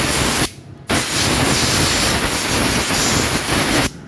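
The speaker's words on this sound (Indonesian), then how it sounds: "Oke, dan sekarang semprotan." Aerosol spray applied to a motorcycle gear part in a workshop, loud hissing bursts close to the mic, a short burst, a brief pause, then a longer continuous spray before stopping.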